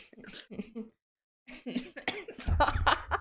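A person coughs near the microphone after a brief pause in conversation, a short burst of rough coughing mixed with talking and a bit of laughter during a gaming livestream.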